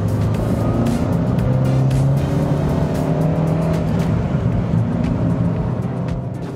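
A second-generation Renault Twingo hatchback drives along with a loud, steady engine drone and road rumble from inside the cabin, holding fairly constant before easing slightly at the end.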